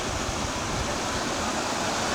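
Whitewater rapids at Castor River Shut-Ins near Fredericktown, Missouri, spill over a small waterfall and swirl around boulders, making a steady, loud, broadband rush of water that stays constant from start to finish with no voices.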